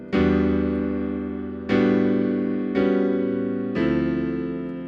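Four sustained piano chords, a jazz sus chord then its resolution, struck one after another, each ringing and slowly decaying before the next; the harmony shifts from tense to settled.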